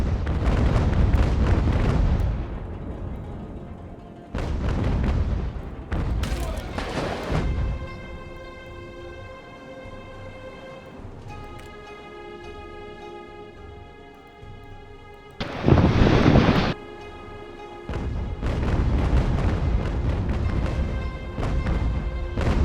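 Ship cannons in UGAR fire at a mast in a naval battle, with loud roaring broadside volleys in bursts separated by quieter stretches of sustained music-like tones, then a sharp heavy blast near the end.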